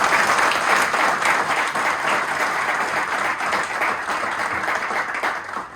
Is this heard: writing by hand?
no